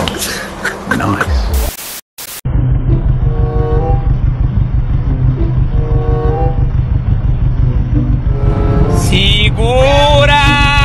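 A loud engine idles and revs in steady pulsing rhythm, rising in pitch near the end, with shouting voices over it after a brief dropout.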